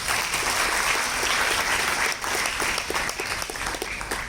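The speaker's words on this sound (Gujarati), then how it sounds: "તો એક એકવાર પોતાના માટે જોરદાર તાળીઓ વગાડી" Strong, sustained applause from an audience at a school exam results event, a dense wash of clapping that stays loud throughout and thins slightly toward the end.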